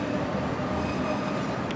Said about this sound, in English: So if we just pause for the train,